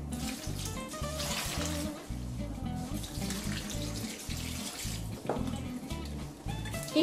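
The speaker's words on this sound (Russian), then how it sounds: "Также добавляю туда 2 стакана воды." Two cups of water poured into a pot of stewed potatoes with meat, a close, continuous splashing and gurgling stream running for several seconds.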